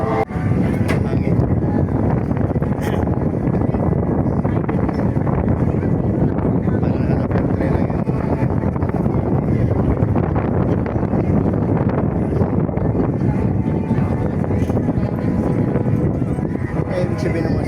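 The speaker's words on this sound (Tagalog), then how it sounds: "Hangin." Strong wind buffets the microphone in a steady, loud roar that lasts the whole stretch, with no clear voices over it.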